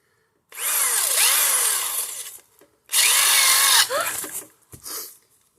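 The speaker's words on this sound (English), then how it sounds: "got my power tool out for this little venture" Power tool drilling out in the open for a homemade jet stove build, two loud whining bursts of a few seconds each with a brief pause between, followed by a short final burst.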